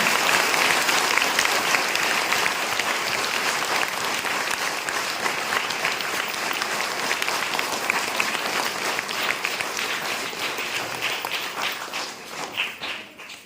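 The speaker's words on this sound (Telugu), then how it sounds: "ఆయనకి గట్టిగా చప్పట్లు కొట్టి" Sustained applause from a church congregation at a New Year celebration, loud and dense with steady clapping that tapers slightly near the end, with faint voices underneath.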